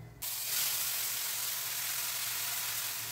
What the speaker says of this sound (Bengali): এবার এখানে মিক্সিতে যে পেস্টটা আমি করেছি সেটা আমি এখানে ঢেলে দিচ্ছি।